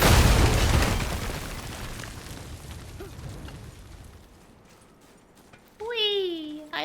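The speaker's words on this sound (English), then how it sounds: "I love explosions." A loud, booming explosion from the God of War (2018) video game bursts at the start, then fades into a long, low rumble; near the end, a voice lets out a high, gliding cry of delight.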